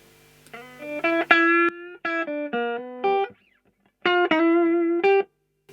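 A recorded distorted electric guitar track is re-amped, playing short melodic phrases through an amplifier, bright and sustained notes separated by brief silences, with no voices.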